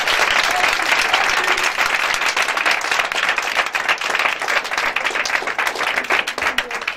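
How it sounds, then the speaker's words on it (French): Sustained applause from a church congregation praising the Lord, steady and loud, with dense clapping filling the space throughout and a few voices faintly mixed in. "On acclame le Seigneur pour la dame."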